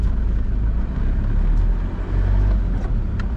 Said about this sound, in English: Right, we're gonna reverse into there, is that alright?